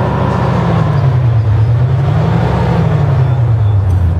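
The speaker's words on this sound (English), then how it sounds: "You can notice this typical V8 rumbling that changes with the engine speed." A synthesized V8 engine sound played by an electric car: a loud, continuous low rumble whose pitch slowly rises and falls with speed, steady and close, with no talking.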